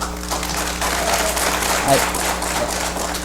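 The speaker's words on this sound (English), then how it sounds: "we probably should remind the audience of our request to hold applause until the end" An audience at a candidate debate at Lane Community College breaks into steady, moderately loud applause, a continuous wash of clapping with a voice faintly under it.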